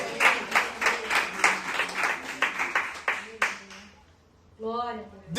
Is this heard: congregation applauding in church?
yes